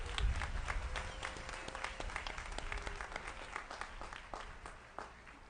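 A commencement ceremony audience bursts into sustained applause, many hands clapping in a dense, steady patter that stays loud throughout before thinning slightly near the end.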